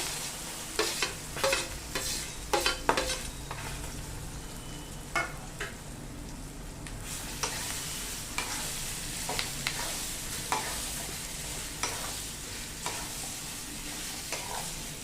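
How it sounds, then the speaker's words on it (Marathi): Ground dal paste for a raw mango dal is sautéed in a pan, with a constant gentle sizzle broken by repeated sharp scrapes and taps of a spatula as it is stirred and turned. "ही जी डाळ आहे ना हे सगळं वाटण याच्यात घालूया आणि छान परतून काढूया"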